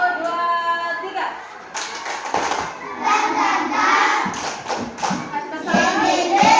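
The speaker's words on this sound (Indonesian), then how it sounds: "Sebelum kita mulai lagi, kita tepuk semangat dulu" A classroom of children doing a rhythmic spirit clap together, with chanting voices and bursts of clapping and thumps in a patterned beat, loud and close, after a teacher's spoken cue.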